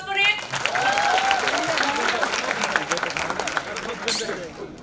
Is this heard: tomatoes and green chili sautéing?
no